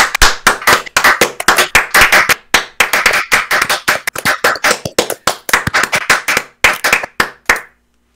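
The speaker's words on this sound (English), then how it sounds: "everybody unmutes their mics and we all start clapping egregiously loud" Loud, rapid clapping from online meeting participants with unmuted microphones, bursts of sharp claps over about eight seconds, close and peaking, with no talk.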